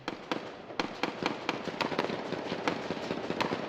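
Rapid gunshots crack in an irregular stream during an armed clash with police, sharp reports overlapping and echoing, with no voices heard.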